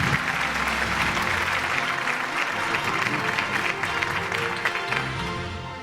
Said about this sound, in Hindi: भरपूर तालियां होनी चाहिए आप।